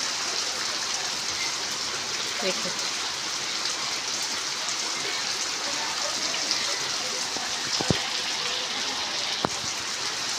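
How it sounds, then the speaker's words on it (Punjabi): Steady, dense hiss of heavy rain pouring down without a break, with a couple of faint sharp clicks near the end. "ਕਿਤੇ ਵੀ ਦਿਖਾਈ ਨਹੀਂ ਦਿੰਦਾ ਇੰਨਾ ਜ਼ਿਆਦਾ ਮੀਂਹ"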